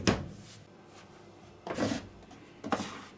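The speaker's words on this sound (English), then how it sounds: "so this is our detent drawer." A plastic detergent drawer on a Hoover A3394 Electron washing machine is handled up close, with a sharp opening clack at the start and two further slides and knocks later, all alone without talk.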